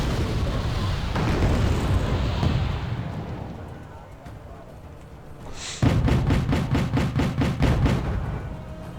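Missiles fire and explode in the Wargame video game, heavy rumbling blasts giving way to a rapid rhythmic series of booming launches, with a voice talking over them.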